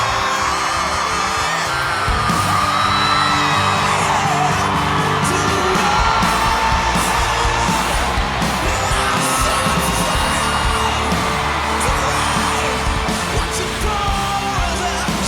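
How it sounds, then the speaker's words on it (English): A live concert crowd roars continuously, with loud yelling, whooping and cheering forming a dense, unbroken wall of noise throughout. "Too much crowd noise."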